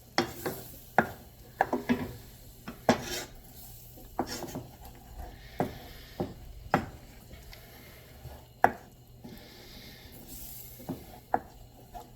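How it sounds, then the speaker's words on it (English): A spoon stirs spices around the bottom of a pan of elk chili, giving irregular sharp taps and scrapes against the metal with soft shuffling between them, close and fairly quiet. "We'll stir that around and get all the spices off the bottom of the pan."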